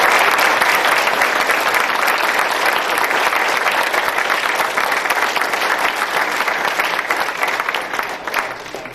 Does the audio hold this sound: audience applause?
yes